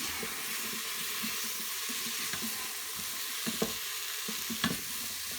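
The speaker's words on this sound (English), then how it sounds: "You can hear the nice sizzle." Stock splashed into a hot Instant Pot while cooking chilli sizzles steadily, with a few clinks of a utensil against the pot, close and fairly quiet.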